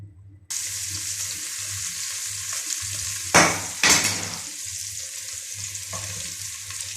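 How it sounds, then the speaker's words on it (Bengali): Sliced onion and garlic dropped into oil left from frying sea fish, setting off a sudden bright, hissing sizzle that carries on steadily with a couple of louder bursts midway. "ফালি করা পেঁয়াজ রসুনগুলো তেলে দিয়ে একটু হালকা ভেজে নেব।"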